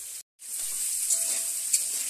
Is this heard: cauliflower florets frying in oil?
yes